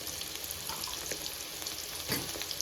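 Turmeric hits a hot frying pan of colocasia leaf curry, giving a steady close sizzle with light stirring scrapes throughout.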